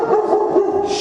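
A dog barks and whimpers up close in an outdoor survival trapping setting, a short, loud burst of yips with no other sounds.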